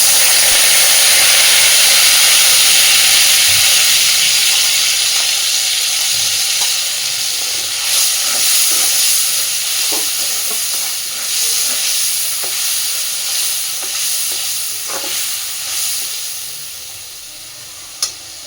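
A ground paste of onion, ginger, garlic and black pepper hits hot oil in a pan, a loud hissing sizzle that gradually settles, with occasional stirring clicks and a sharp tap at the end.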